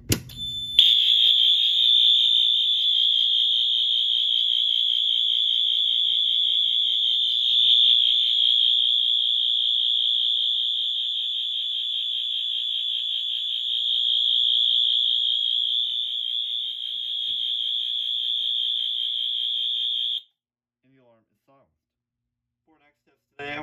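A loud, steady high-pitched fire alarm tone from a Fire-Lite MS-4424B system, set off by a pull station, sounds continuously for about twenty seconds, then cuts off abruptly into near silence.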